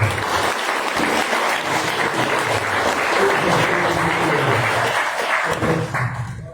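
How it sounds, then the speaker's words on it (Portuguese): A church congregation breaks into sustained clapping during a Passover service, dense and steady, with faint voices mixed in. "As palmas da glória."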